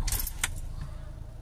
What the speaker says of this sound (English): I'll start the engine, have it running.